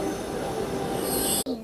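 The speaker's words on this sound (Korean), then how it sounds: "열차가 들어오고 있습니다." Train bound for Versailles pulling into a Paris station, with loud, steady high-pitched wheel squeal and rumbling rail noise that cuts off abruptly near the end.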